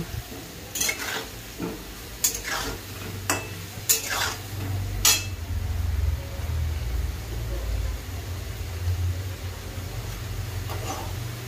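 Fried potatoes being lifted from a pan of hot oil, with a low steady sizzle and sharp metallic scrapes and clinks of a utensil against the pan in scattered bursts.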